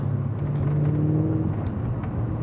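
A 2009 Mercedes-Benz CLS 63 AMG with its 6.2 liter V8 in manual mode, a steady loud engine drone with a rising revving tone held throughout, close and with no talking.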